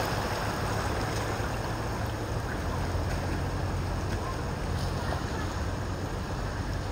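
A car ploughs through a flooded ford, with continuous broadband water rushing and splashing mixed with engine rumble, steady and fairly loud throughout with no voices.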